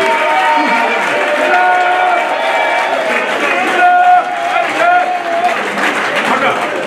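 At a closing ceremony in Mali, a standing crowd applauds the minister, steady clapping and cheering running the whole time while voices call out over it.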